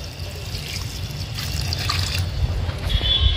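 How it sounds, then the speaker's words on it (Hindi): A steady stream of water pours and splashes onto a tall plant, rising slightly toward the end, with no talking. "इसमें भी पानी देता हूँ"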